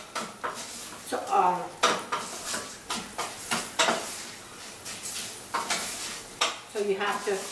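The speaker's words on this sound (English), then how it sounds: "stir constantly because otherwise it will stick bottom of the pot." A spoon stirs jasmine rice in a pot, making repeated scraping and clinking strokes in an uneven rhythm, close and fairly clear, with a faint sizzle underneath.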